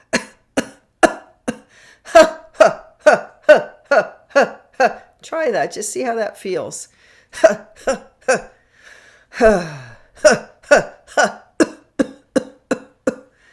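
Rapid series of short, forceful coughs in a steady rhythm, close and loud, interrupted briefly by a person speaking.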